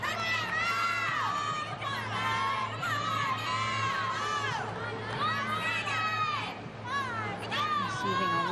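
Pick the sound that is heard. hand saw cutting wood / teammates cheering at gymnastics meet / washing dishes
teammates cheering at gymnastics meet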